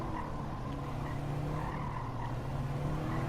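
A Subaru WRX in Gran Turismo 7 brakes late into a corner, its engine droning steadily while tyres squeal and skid continuously throughout, loud and close with no talking.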